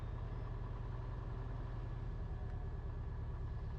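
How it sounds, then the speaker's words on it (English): A Cessna 172RG aircraft engine idles at low throttle while warming up, a steady, continuous low rumble close by with no speech over it. "Engine's starting to warm up."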